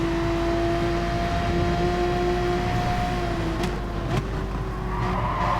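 A Porsche Cup race car slides on track in GT Sport, its engine holding a steady drone while brief tire squeals cut in near the end, with no voices.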